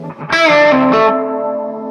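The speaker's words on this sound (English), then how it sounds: "The reverb sort of takes over when you go into a dirty amp" An electric guitar played through a Supro 24 clone amp with reverb rings out as one loud, gritty sustained chord that slowly decays.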